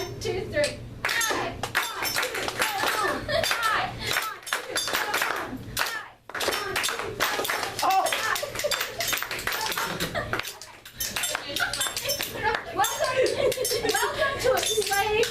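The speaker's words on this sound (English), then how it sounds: "We just join in clapping and singing." A group claps hands in rhythm along to a song, sharp steady claps mixed with singing voices and occasional laughter, close and lively.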